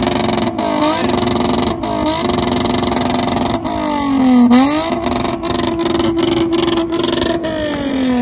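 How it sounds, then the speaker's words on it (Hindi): Car fitted with a cut-off exhaust, its 2.5-litre engine revving repeatedly at close range: short blips between pauses, one larger rise and fall near the middle, then a sustained steady rev to the end. "क्या आपको कट ऑफ साउंड सुनवाते हैं? इसमें कट ऑफ एग्जॉस्ट लगा हुआ है"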